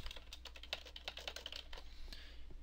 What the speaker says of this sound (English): Type in the subject line